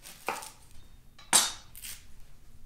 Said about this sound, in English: What I do is I take the top part of the onion off